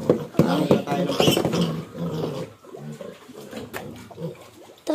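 A pig being held and castrated squeals and grunts loudly in bursts close by, with people talking over it throughout.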